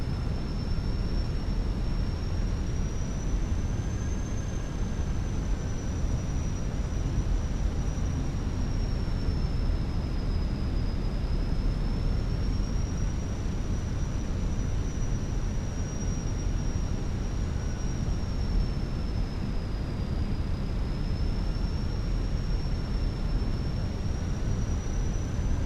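A Fenix A320 airliner in flight in Microsoft Flight Simulator 2024, heard as a steady, loud cabin roar of engine and air noise with a faint wavering high whine, continuous and unchanging, with no voices.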